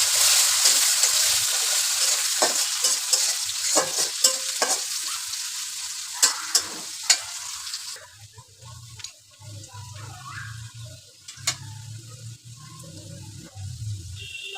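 Whole cumin seeds and chopped onion frying in hot oil in a pan, a steady bright sizzle with scraping stirs, easing into a quieter bubbling hiss partway through, close and alone.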